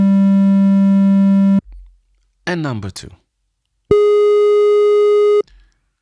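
Two steady electronic pitch tones of the kind used in aural skills ear-training play one after the other, a lower one and then a higher one, each lasting about a second and a half, with a short spoken announcement between them.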